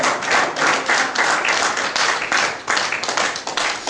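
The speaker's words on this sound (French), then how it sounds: "Est-ce qu'on peut acclamer le Seigneur? Acclamez le Seigneur." A church congregation claps together to acclaim the Lord, producing loud, dense, rhythmic clapping that fills the space without pause.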